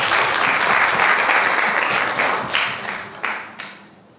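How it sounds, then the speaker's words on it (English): A classroom audience applauds a student for a correct answer in a grade 3–5 math session, a dense, loud wash of clapping that tapers off near the end with a few last claps. "Let's give Dean a round of applause."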